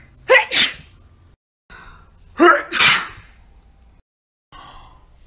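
Two sharp sneezes, each with a quick inhaled buildup and an explosive release, separated by a short pause.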